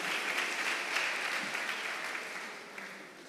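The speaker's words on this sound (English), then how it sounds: "Please clap for him." Steady applause from an audience at a music workshop, a soft, even wash of many hands clapping at some distance with no voices over it.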